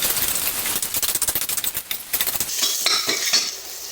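Garlic frying in a little oil in a pan, a bright crackling sizzle mixed with rapid clattering of a metal utensil stirring against the pan, close and fairly loud.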